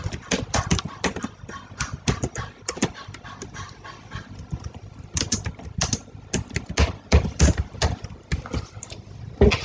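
Rapid clacking of a computer keyboard as Python code is typed, irregular bursts of close, fairly loud keystrokes with short pauses, no talking.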